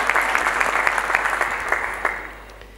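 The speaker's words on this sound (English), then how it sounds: "Can I welcome you again to Ethiopia, please, with a round of applause." An audience in Ethiopia claps in welcome at a panel discussion, a full burst of applause that gradually thins and fades away toward the end.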